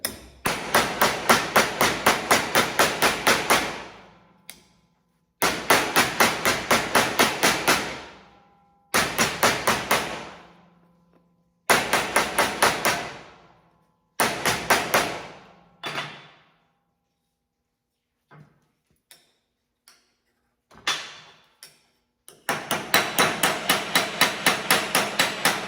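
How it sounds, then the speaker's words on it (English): A dished hammer shapes the crown of a C-10 Chevy gas filler hole panel on a beater bag, striking in rapid bursts of sharp metallic blows. Several bursts are separated by pauses and a few scattered single taps. "So I'm gonna use the dished hammer"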